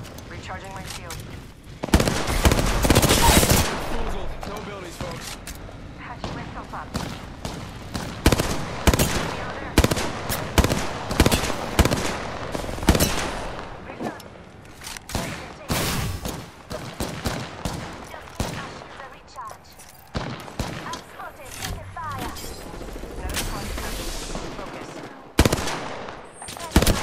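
Rapid gunfire in the battle royale video game Apex Legends, with dense bursts of automatic weapon shots and impacts, loud and continuous, heard alongside game sounds.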